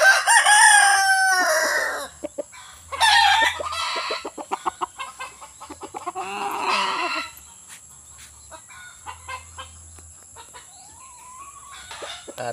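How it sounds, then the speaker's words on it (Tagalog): Prized fighting rooster, a three-time winner, crowing several times in loud, close, drawn-out calls with clucking and short sharp bursts between, set against faint background noise. "Napakagandang manok."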